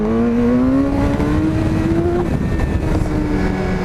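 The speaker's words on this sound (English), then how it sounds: "BMW did a good job on this engine" A BMW S1000R motorcycle engine revs loudly up close, its pitch climbing steadily then easing off, a continuous throaty whine with no talking.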